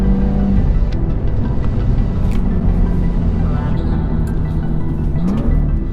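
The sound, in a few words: BMW M2 engine revving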